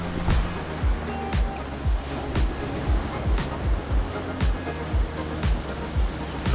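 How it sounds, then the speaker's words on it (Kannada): Strong ocean waves roll in and crash repeatedly on Someshwara beach under afternoon sun, each surge rising and breaking at a steady rhythm, loud and close with constant wash between breakers. "ಈ ಬಿಸಿಲಲ್ಲೂ ಕೂಡ ಎಷ್ಟು ರಭಸವಾಗಿ ಬರ್ತಾ ಇದೆ ಅಂದರೆ ಅಲೆಗಳು ಬೆಳಗ್ಗೆಗಿಂತ ಇನ್ನೂ ಜಾಸ್ತಿನೇ ಬರ್ತಾ ಇದೆ"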